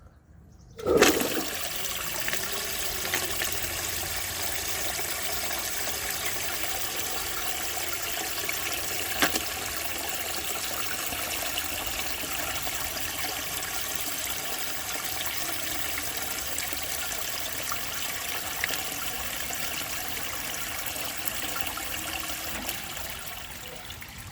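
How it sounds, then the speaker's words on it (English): A 1902 Fleck Bros. Victor antique toilet flushes with a sudden rush of water that settles into a long, steady trickle and refill, close and continuous for over twenty seconds. "So I know it flushes well, but I'm going to show you guys anyway."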